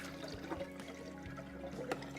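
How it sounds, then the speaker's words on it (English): Water from an Alkaviva Elita Pure alkaline water filter pours steadily into a jug, a continuous soft splashing over a low background hum, with no one speaking. "as you can see, the water's just pouring into the jug"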